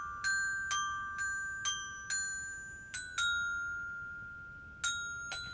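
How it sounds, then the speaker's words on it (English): A phone notification chimes repeatedly, with about nine bright, clear dings arriving at irregular intervals. Each tone rings and decays slowly, and the chimes sound fairly faint over a quiet background. "So that is just my phone."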